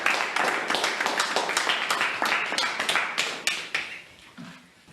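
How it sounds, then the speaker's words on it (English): A group of people applauds a newly chosen chairman at a community livelihood meeting in Kenya, with dense, steady clapping that gradually thins out and fades toward the end. "and then let's clap for him"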